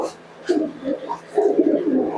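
Giribaj pigeons from Murshidabad cooing in a few soft, throaty bursts, close by, with a steady low hum underneath.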